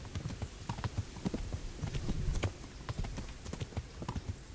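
Rapid hoofbeats of a horse in the video game Kingdom Come: Deliverance clatter in a quick, uneven galloping rhythm, close and continuous, with faint rustling behind them.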